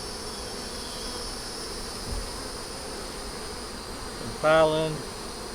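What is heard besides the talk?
honeybees buzzing at opened hive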